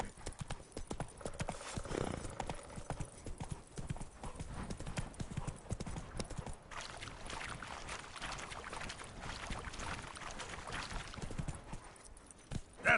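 Roach, the horse in The Witcher 3, gallops with steady, fairly faint hoof clip-clop in a quick rhythm over a textured game soundscape, with a brief whinny near the start and a soft voice calling out.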